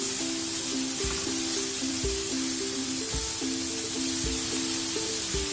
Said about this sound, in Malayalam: ഏകദേശം ഒരു ഗോൾഡൻ ബ്രൗൺ ആകുന്നത് വരെ വഴറ്റിയെടുക്കണം